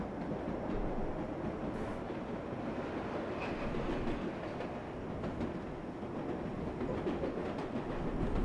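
A New York number 7 local subway train in World of Subways 4 runs steadily near Junction Boulevard, a continuous loud rumble of wheels and motor with faint clatter throughout, with no voices.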